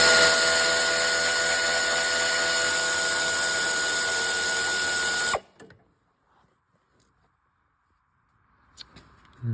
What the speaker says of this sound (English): And I'll switch to the air ratchet.